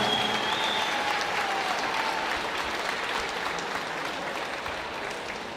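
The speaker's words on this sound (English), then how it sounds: "Let's give her a round of applause." An audience applauds at an Aboriginal culture folklore festival: a continuous wash of clapping from a crowd, fairly close and even throughout, with no talking over it.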